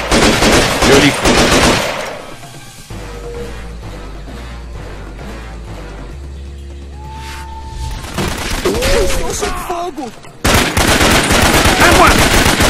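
Bursts of automatic gunfire and explosive shots in the Raven Squad jungle shooter game, loud at the start and end with quieter ambient stretches and tones between, while in-game voices call out.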